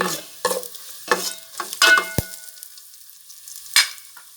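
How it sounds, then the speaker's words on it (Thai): Garlic and coriander root fried in a pot for bitter melon and pork belly soup, with intermittent close stirring scrapes and sizzle, a metallic clink partway through, and no talking. "เจียวกระเทียม กับรากผักชี"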